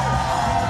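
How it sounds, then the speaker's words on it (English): A wrestling crowd at a steel cage match roars in a sustained, loud wave of cheering and whooping, a dense wall of voices filling the whole moment without a break. "As he gets a rousing ovation from this crowd."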